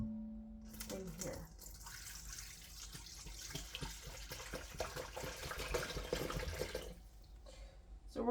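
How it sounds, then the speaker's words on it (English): A quart of water dumped from a measuring container into another vessel, a steady splashing pour lasting several seconds that tapers off near the end. "Okay, so this is 1 quart. We're just gonna dump this into this"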